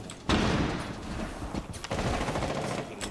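Rapid gunfire in a gun battle in Rainbow Six Siege, heard as loud, close bursts of automatic shots over about three seconds with a short gap in the middle and no talk.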